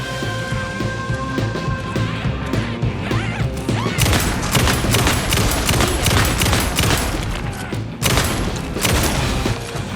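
Gunfire and combat in the video game Alan Wake 2's Night Springs expansion, a dense loud barrage of shots and crashes that thickens sharply partway through and surges again near the end, with music and effects underneath.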